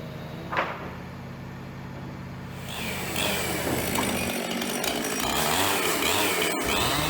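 A chainsaw delimbing a felled cedar tree revs up after a brief quieter start, then runs loud and steady, cutting with a throaty, wavering whine.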